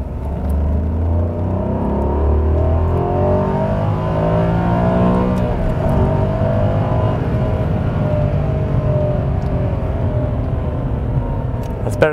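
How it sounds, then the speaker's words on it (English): Maserati Quattroporte V8 pulling hard from the low end of second gear, a loud sustained engine roar whose pitch climbs steadily for about twelve seconds, heard from inside the car without talk. "this is from the low end of second gear, but listen to this V8 pull this car through"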